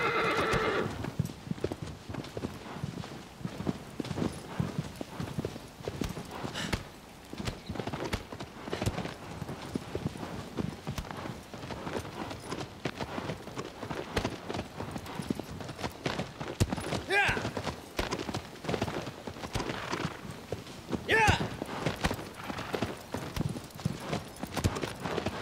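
Horse in Shadow of the Colossus (PS4 remake) galloping with steady clip-clop hoofbeats and several whinnies, with people talking over it throughout.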